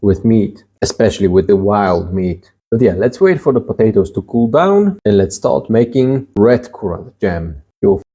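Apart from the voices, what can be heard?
None of the usual background noises is heard.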